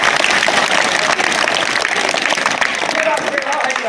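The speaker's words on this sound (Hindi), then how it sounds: "तालियां मार दिया जाए।" A dense, noisy wash of clapping from a school audience watching a strongman's stage performance at a school, loud and continuous with excited crowd voices mixed in.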